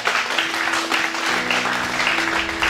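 A church congregation applauds during a sermon, dense steady clapping throughout with faint sustained organ or keyboard tones underneath.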